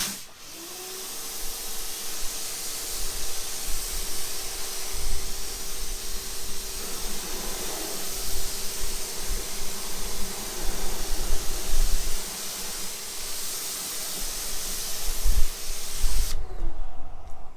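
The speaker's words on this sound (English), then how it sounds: "I'm going to rinse it down, spray this stuff on, start scrubbing it up" A garden hose sprays water onto a car tire during wheel cleaning, giving a steady, close, loud hiss that runs unbroken for about sixteen seconds and then cuts off abruptly.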